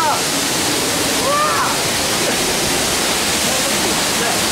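A waterfall in the Columbia Gorge roars as a steady, loud broadband rush of falling water that fills the whole stretch, with faint voices briefly audible over it.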